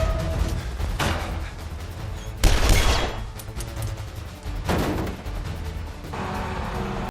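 Loud bursts of gunfire and heavy explosive blasts crash in waves over a dense action-film soundtrack from The Transporter 2, with rumbling low end throughout.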